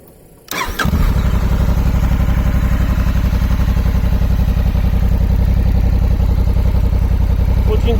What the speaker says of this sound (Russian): Сейчас покажу, как звучит оригинальный родной глушитель.